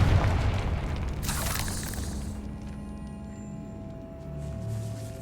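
A Confringo fire spell in Hogwarts Legacy bursts with a loud, deep boom that rolls into a crackling, fading roar of flame and debris.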